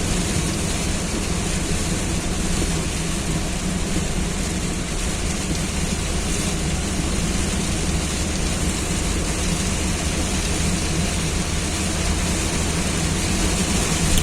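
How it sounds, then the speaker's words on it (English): Heavy rain pours steadily and loudly on a moving car during a drive, a dense, unbroken roar with a low rumble underneath, and no voices. "Rains have intensified, visibility is getting poorer."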